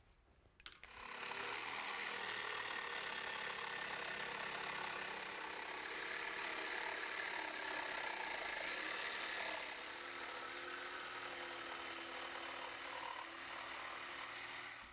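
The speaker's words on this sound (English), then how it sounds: "we'll use our jigsaw, and we can go ahead and rough cut out those curves" A jigsaw rough-cuts curves in a cherry wood mirror frame. It starts abruptly and then buzzes loudly and steadily for the full stretch, with slight shifts in pitch as the blade works through the wood.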